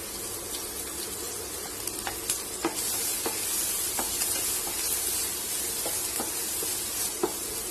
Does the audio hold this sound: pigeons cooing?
no